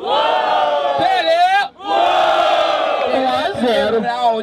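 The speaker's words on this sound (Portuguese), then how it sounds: "Barulho que gostou da rima do MC Johnny." A crowd at a Brazilian freestyle rap battle in São Gonçalo roars and shouts in unison, loud sustained yelling with a brief dip midway before surging again.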